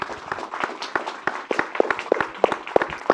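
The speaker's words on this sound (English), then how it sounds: "Can I have a big round of applause, everyone here?" Audience applause at a tempeh showcase, a small group clapping in an uneven patter of distinct claps, fairly faint and close.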